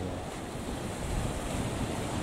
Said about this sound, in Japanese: 波の音がまたいい音だ、本当にね。